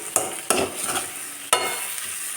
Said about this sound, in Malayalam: സ്റ്റൗ മീഡിയത്തിലിട്ടിട്ട് സവാള ബ്രൗൺ കളറാവുന്നത് വരെ നന്നായിട്ട് വഴറ്റിയെടുക്കാം.